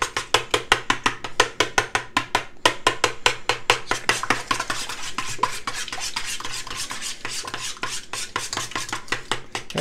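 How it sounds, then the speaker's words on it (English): Seven cracked eggs whisked in a bowl, a fast run of sharp rhythmic clinks and taps that blur into steady, busier beating, close and loud with no talking. "I'm going to mix them up a little bit first."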